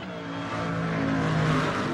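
A car engine drones steadily with a rising, high-pitched whine as it approaches, growing slightly louder.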